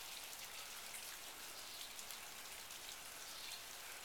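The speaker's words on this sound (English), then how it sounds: "we got snow and rain here in Wyoming." Rain mixed with snow falls outdoors in Wyoming on a late-spring day, a steady, even hiss of drops spread across the whole clip with no voices.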